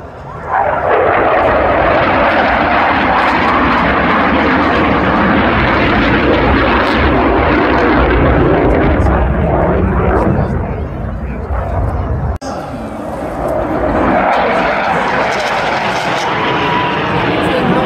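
Snowbirds aerobatic jets roar overhead above Barrie, Ontario, Canada, a loud continuous engine wash that swells, dips briefly near the middle and builds again as the formation passes.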